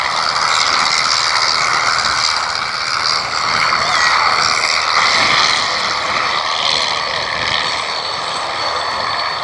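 A rare rear-wing Sportster aircraft flies at an outdoor airshow, its propeller engine a loud, steady droning roar that holds for the whole stretch with no break.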